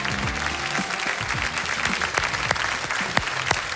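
Loud studio audience applause mixed with shouts and cheers for a singer on a Swedish TV bingo show, with voices calling out over the clapping and sharp individual claps.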